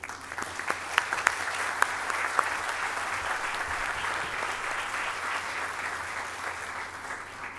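An audience at a memorial dedication ceremony applauds steadily as a speaker is welcomed, with a dense, even patter of clapping and a few sharper claps standing out, no voices over it.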